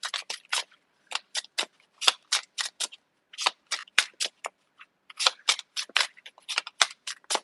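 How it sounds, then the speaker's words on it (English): Tarot cards are shuffled by hand, giving quick clusters of crisp, close slapping clicks in uneven bursts with brief pauses between them. "Okay, I'm going to shuffle 2 more times."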